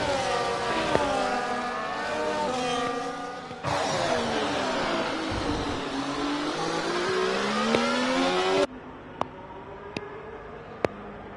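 Race cars lap Monaco in an F1 video game. Engines whine and rise through the gears, with sharp shift changes and other cars close by, heard from the cockpit with no talk over them.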